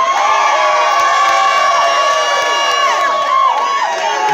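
A church congregation screams, whoops and cheers together in a loud, sustained crowd roar, with shrill individual voices rising and falling throughout.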